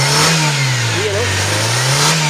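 A 1989 Mitsubishi Lancer engine revs up and holds a steady, loud mid-pitched drone close by, with a slight rise and fall in pitch through the short burst and people talking over it.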